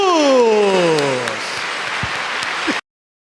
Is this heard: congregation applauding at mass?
yes